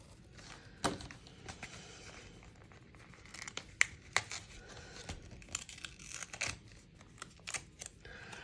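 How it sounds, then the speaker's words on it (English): A craft knife cutting through paper photo prints, giving faint scattered scrapes and crisp tearing, crinkling ticks in irregular bursts, close and alone over a quiet background. "So I'm just using this craft knife."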